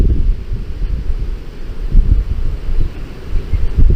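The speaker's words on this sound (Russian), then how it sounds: "Ураганный ветер, блин." Hurricane-force wind on an outdoor fishing trip buffets the microphone in heavy, uneven low gusts that roar continuously without pause.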